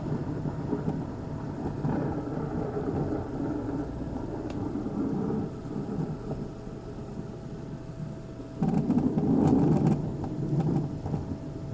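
Steady heavy rain with low rolling thunder rumbling underneath, swelling into a louder, denser burst of downpour and thunder near the end, continuous and without voices.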